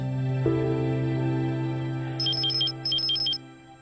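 A phone rings with a repeated electronic ringtone, two quick bursts of chirping tones over a steady low background hum in an indoor drama scene.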